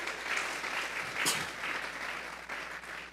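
A church congregation breaks into applause during a service, a steady wash of many clapping hands at moderate volume, continuous throughout with a brief louder burst midway.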